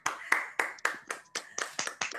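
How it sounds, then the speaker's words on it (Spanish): Scattered claps from an online audience with microphones switched on, a few sparse hand claps in an uneven rhythm over about two seconds, close and thin rather than a full crowd. "Todo el mundo puede prender sus micrófonos y aplaudir."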